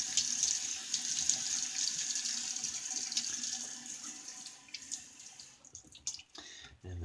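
Water runs steadily from a bathroom tap while someone wets their face before a shave, a close, continuous rushing that ends in a few splashes and drips toward the end.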